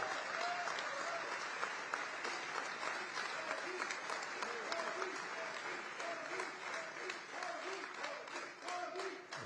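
An audience applauding to welcome Prime Minister Modi at the Kennedy Center for the US-India Strategic Partnership Forum, dense continuous clapping from a large crowd throughout, with a voice heard faintly within it.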